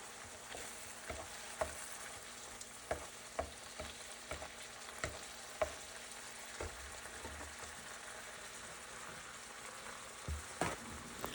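Ground beef frying in a pan for a tater tot casserole, a steady hiss of sizzling fat under repeated scraping and stirring clicks from a spatula, with no voices present.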